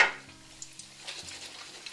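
Pre-fried chicken goldfingers crisp up in hot oil with a soft, steady sizzle, a brief louder burst at the start as they go in, then faint crackles and a few light clinks of utensils.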